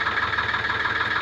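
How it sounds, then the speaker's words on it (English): A 1968 Vista HA3 engine on a canal narrowboat runs at idle, a steady mid-pitched mechanical chug with a fast regular pulse, close and fairly loud, no voices. "The engine that she's got is a Vista HA3, which was brand new in 1968."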